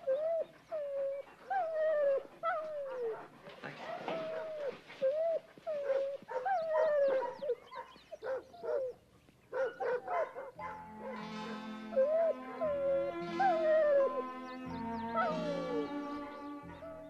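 An old dog whimpers and howls in repeated plaintive, rising cries, close and clear, with a steady tonal musical backing joining partway through.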